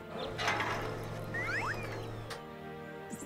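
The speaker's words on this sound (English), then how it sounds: "Since it is a nut, maybe the wrench will work on it." A wrench turning a nut in the video game Deponia: a short mechanical ratcheting and clanking sequence with a few squeaky tonal turns, set over a low steady game background hum.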